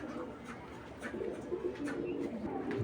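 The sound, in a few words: pigeons cooing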